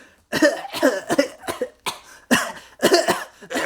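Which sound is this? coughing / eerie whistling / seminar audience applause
coughing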